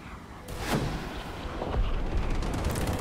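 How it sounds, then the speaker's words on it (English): Rockets launched from a Yak-38M jet in War Thunder, a loud whooshing launch followed by several rumbling booms and a continuous engine roar. "Let's test out the rockets with ballistic computer."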